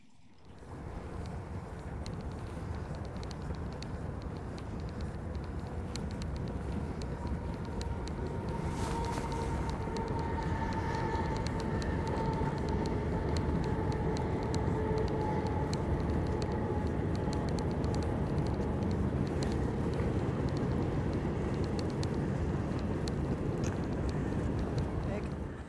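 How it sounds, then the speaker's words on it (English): Continuous roar of highway traffic beside Interstate 40 in New Mexico, steady and moderately loud for the whole stretch, with faint higher tones drifting in over the low rumble. "I'm right next to I-40, so I can hear the traffic"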